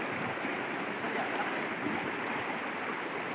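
A river flows below a villa on its bank, a steady broadband rush of water that holds even and unbroken throughout, with no voices.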